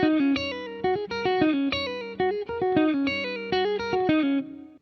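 An electric guitar runs through effects, playing a quick looped nine-note lick with distortion and chorus, the phrase repeating several times in an even, bright rhythm, close and clear with no talk.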